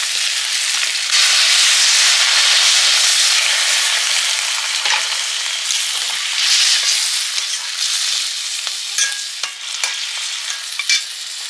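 A fish-head and papaya curry spiced with cumin powder fries loudly in a pan as water goes in, with a dense, continuous hiss and sizzle, stirring scrapes, and scattered sharp pops, up close and with nobody speaking.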